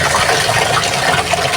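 Water runs steadily while Garfield the dog gets a bath, a loud, close, continuous splashing gush with no pauses.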